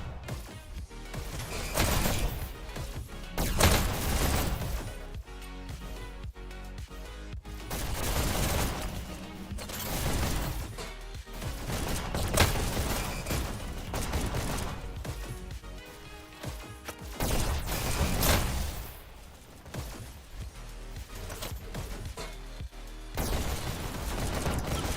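Double SMGs firing in a Payload League match, rapid bursts of gunfire and impacts coming in waves, loud and dense with brief pauses between volleys.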